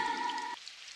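Rain falls in a Hindi-dubbed Doraemon cartoon, a soft even patter that continues after a steady tone cuts off halfway through.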